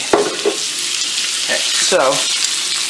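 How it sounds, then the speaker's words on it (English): Raw chicken pieces sizzle and hiss steadily in a hot non-stick pan, a close, continuous frying crackle with a brief spoken word early on. "I'm going to add my chicken right in. You should hear it sizzle immediately."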